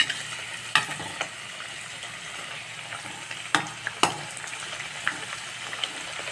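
Sweet poori frying in hot oil in a wide kadai, a steady close sizzle broken by scattered clicks and stirring knocks, with no talk.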